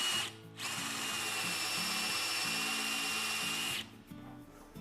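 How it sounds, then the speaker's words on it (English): A power drill fitted with a countersink bit bores a hole in wood, running as one steady close whirring burst of about three seconds, with quieter workshop sounds before and after. "Let's get our little countersink bit again and drill that hole out."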